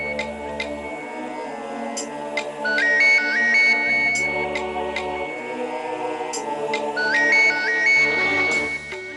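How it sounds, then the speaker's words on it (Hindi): A phone ringtone plays a repeating electronic melody, loud and close, with bright chiming tones cycling over several seconds and no talking. "अननोन नंबर से फोन आ रहा है, क्या करूं?"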